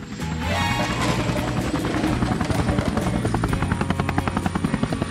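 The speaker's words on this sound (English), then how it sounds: "I launched the helicopter." A helicopter roars close by, its rotor chopping in a steady rapid rhythm that grows more pronounced toward the end, loud and continuous.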